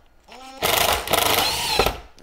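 A power drill drives screws into a winch plate during a winch installation on a new Land Rover Defender, giving a loud, close, continuous whirring burst of about a second and a half after a brief quieter lead-in.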